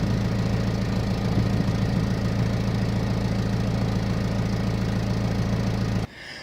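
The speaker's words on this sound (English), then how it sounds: "There is no unusual noises coming from the motor." 2000 Toyota Camry engine idling smoothly with an even, steady hum and regular pulsing close by, then cutting off abruptly near the end.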